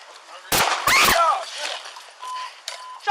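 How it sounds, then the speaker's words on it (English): Gunshots from a police shooting of an armed man in Seattle on New Year's Eve: two loud, sharp bursts close together near the start, followed by fainter rustling and movement. "Shots fired! Shots fired!"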